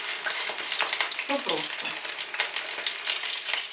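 Lazy belyashi, pan-fried pies of dough and minced meat, crackle and sizzle steadily in hot oil, close and continuous, with a brief spoken comment over the frying.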